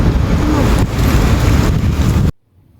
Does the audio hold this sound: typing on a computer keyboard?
no